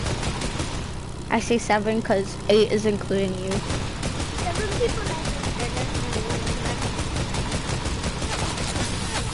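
Gunfire from a battle royale video game, rapid bursts of shots in quick succession, then scattered pops under ongoing talk from a voice in the room.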